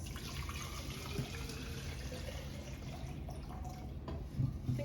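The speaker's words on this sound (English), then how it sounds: "So I'm going to be pouring the water from my filter into this." Water from a home water filter pours into a drinking bottle, a steady, moderately faint trickling flow that runs continuously in a kitchen, with no talking.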